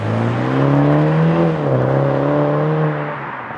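A BMW Z4 sDrive30i roadster with a four-cylinder engine drones steadily while being driven briskly, its engine pitch rising, dipping briefly and climbing again, loud and close with no talking.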